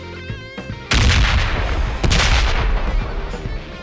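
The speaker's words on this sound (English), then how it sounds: "Second explosion." Two heavy explosions go off in the video game Ride to Hell: Retribution, each a sudden loud blast with a rumbling, crackling tail, the second coming about a second after the first.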